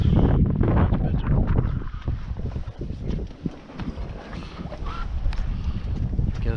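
Strong wind rushing over a microphone aboard a sailboat making about 4.5 knots off Öland, a steady broadband roar with gusty swells and water movement, continuous and close, with no voices.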